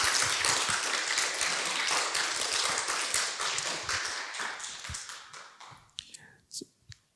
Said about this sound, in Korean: 우리 크게 박수로 환영해 주시면 감사하겠습니다